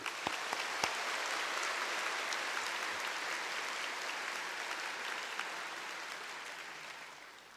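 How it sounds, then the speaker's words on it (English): A crowd claps steadily for several seconds at a bar passers' oath-taking ceremony, a sustained wash of applause that slowly tapers off at the end. "A big round of applause for everybody."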